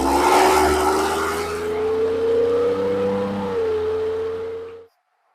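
A 2024 Ford Bronco Hennessey Velociraptor 400 revs hard and climbs in pitch as it accelerates through a corner, a loud steady exhaust drone holding before cutting off abruptly near the end.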